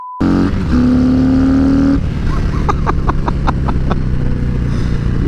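A 2018 Harley-Davidson Heritage Classic with a Milwaukee-Eight 114 engine on a test ride, giving a loud, close motor drone that rises in pitch, then settles into a steady rumble with faint clatter.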